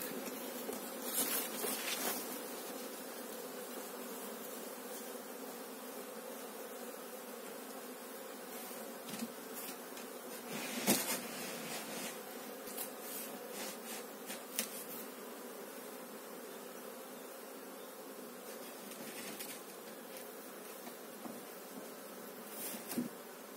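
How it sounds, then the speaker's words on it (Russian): Local honeybees hum around a beehive, a faint, steady buzz that continues throughout with occasional louder passes of individual bees close by. "пчела прилетает"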